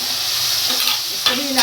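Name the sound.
finely chopped garlic added to hot pan, sizzling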